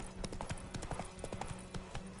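Horse hooves clip-clopping in the video game The Witcher 3, a brisk, even rhythm of hoof strikes at moderate distance, fairly quiet, with faint voices underneath.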